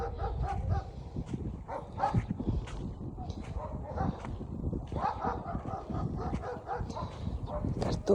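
Dog barks and yips repeat throughout, fairly close, over a busy background with some voices.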